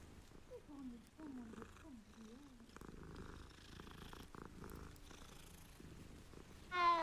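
A cat purring in a Hogwarts video game, a soft low rumble close by under game music and character voices, ending with a brief louder burst.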